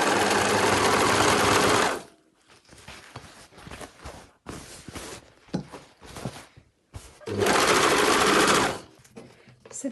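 Overlocker serging around the edges of cushion cover fabric panels, loud sustained whirring runs at the start and end with short stop-start bursts and fabric handling in between.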